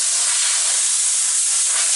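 Clear coat sprayed onto a copper-plated dash panel for a '52 Pro Street build, heard as a close, loud, continuous aerosol hiss that stays steady for the whole two seconds with no voices.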